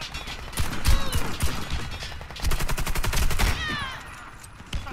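AK-47 firing in Warface, rapid close bursts of automatic gunfire in two main strings with brief pauses, loud and sharp.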